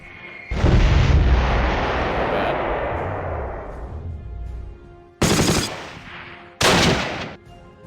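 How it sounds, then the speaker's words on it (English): A dive bomb attack on a town in the Panzer Corps 2 strategy game: a loud blast with a long rumbling decay, followed by two shorter sharp booming impacts. "Let's hit this town with a dive bomb."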